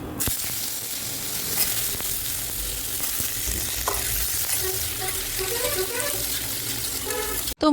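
Potatoes dropped into a hot pan with ginger paste and spices, sizzling and frying steadily and close with scraping stirs, ending in a sharp knock.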